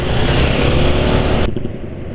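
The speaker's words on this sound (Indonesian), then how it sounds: "Jadi suara mesin masih halus," A car engine running steadily and smoothly just after a change to Castrol GTX 15W50 oil, giving a close, dense broadband hum that drops abruptly to a quieter level about two-thirds of the way through.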